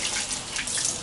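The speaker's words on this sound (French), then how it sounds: "Puis là, il y a le réservoir d'eau, on le vide." Water pouring out of the tank of a Dyson V15 Submarine wet floor cleaner, a brief steady splashing gush into a sink, close and alone.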